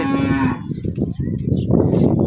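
A cow on a dairy farm with several calves gives one close, full moo, followed by soft shuffling and farmyard noise.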